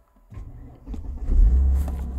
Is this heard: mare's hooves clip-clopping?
no